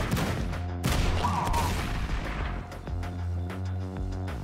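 Sniper rifle fire in the game Madness: Project Nexus amid a busy, dense battle: loud overlapping shots and booms with a sustained rumbling bed, and a sharp burst near the start.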